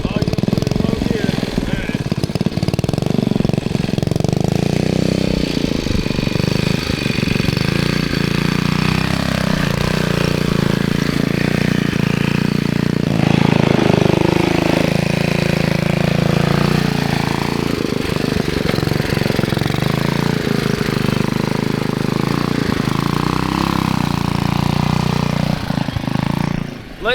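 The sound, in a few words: 1971 ROKON two-wheel-drive motorbike engine riding uphill in low gear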